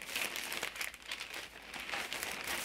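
Crepe paper from a dollar store crinkles and rustles continuously as it is handled up close, a dense, crackly texture with small bursts, no talking heard.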